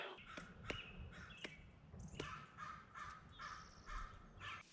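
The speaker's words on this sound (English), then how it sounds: "I have a lot of crows out there." Several crows caw repeatedly outdoors near a wooded home studio, harsh calls coming in irregular bursts at moderate distance, some overlapping, with no talking.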